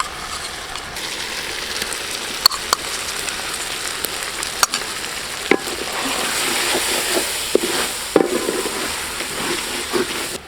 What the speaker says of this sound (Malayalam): ഇതിലേക്ക് നമുക്ക് ഇഞ്ചിയും വെളുത്തുള്ളിയും പേസ്റ്റ് കുറച്ചിട്ട് കൊടുക്കാം